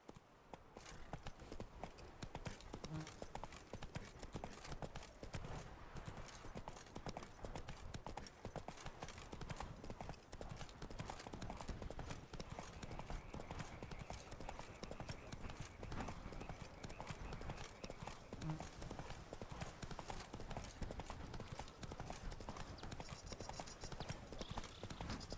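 Steady clip-clop of Roach the horse's hooves galloping through the whole stretch in The Witcher game, with a couple of brief whinnies and a continuous bed of game ambience behind the hoofbeats.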